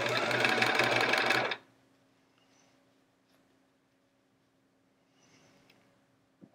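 A sewing machine stitches the back of a chevron quilt in one loud, steady burst for about a second and a half, then stops; faint handling sounds and a low hum follow.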